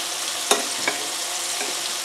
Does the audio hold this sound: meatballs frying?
yes